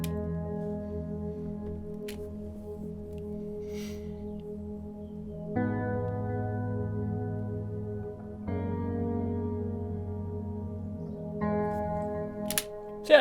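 A sustained synth chord drone sits beneath a sequence of held chords in a drum and bass production, shifting every few seconds as the chords change, steady and fairly loud with no voices.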